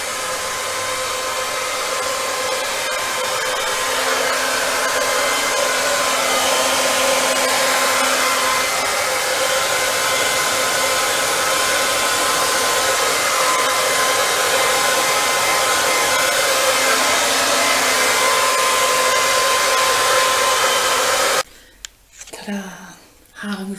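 A hair dryer blows on hair with a loud, continuous whooshing hum that holds steady for about twenty seconds and then cuts off abruptly.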